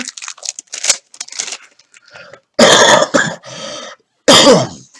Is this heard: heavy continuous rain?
no